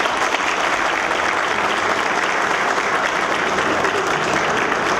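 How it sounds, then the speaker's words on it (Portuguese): Sustained applause from a large crowd at a Brazilian labor law seminar, steady and dense clapping filling the whole stretch without pause. "Eu gostaria de uma salva de palmas para a doutora."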